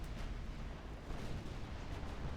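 Torpedo hits and explosions rumble through a naval battle in Ultimate Admiral Dreadnoughts, with ships sinking under a continuous, loud, booming roar of blasts and no clear gaps.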